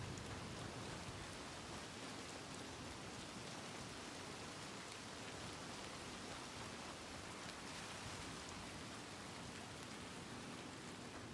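Rain falls steadily in the Red Dead Redemption 2 game world, a faint, even hiss of drops continuing throughout with no voices.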